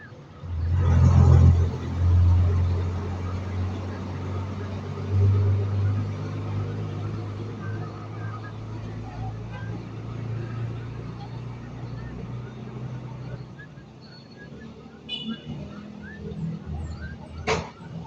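Car traffic passing on a road makes a low rumbling engine drone that swells as vehicles go by, then settles into a steady hum, with speech mixed in throughout.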